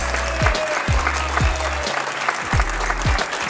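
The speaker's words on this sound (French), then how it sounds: "qu'on va recevoir tout de suite Sylvie Brunet, qu'on peut applaudir" Audience at the 2013 e-health trophies awards ceremony applauding, a continuous dense clapping throughout with music pulsing underneath.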